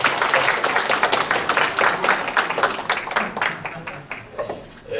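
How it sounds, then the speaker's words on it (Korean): Applause from an audience at a university graduate school alumni year-end party, many hands clapping steadily and densely, then thinning out into a few scattered claps near the end, with little talk. "박수 한번 쳐드리죠"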